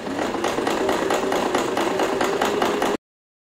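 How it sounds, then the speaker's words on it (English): A sewing machine runs a normal stitch through a fake leather patch on a recycled jeans handbag, giving a close, rapid, even mechanical rattle that continues steadily and then stops abruptly. "we're just going to go and sew a normal stitch"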